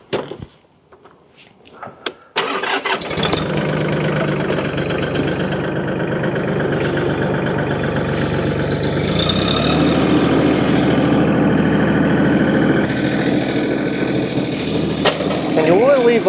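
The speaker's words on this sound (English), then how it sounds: "I'm going to move the backhoe into position and then we'll dig this hole out" A Mahindra Max tractor fitted with a backhoe starts up after a few clunks and settles into a loud, close diesel rumble that holds steady while it is moved into position, with a faint squeak near the end.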